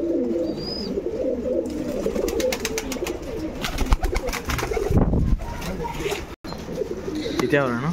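Old line pigeons kept for sale coo repeatedly in low, throaty bursts, with chatter from people talking throughout and occasional rustling nearby.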